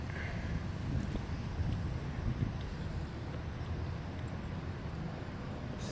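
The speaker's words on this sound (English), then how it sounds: "It's windy" Wind blowing outdoors on a warm day, rumbling across the microphone as a continuous low, uneven roar for several seconds with no voices.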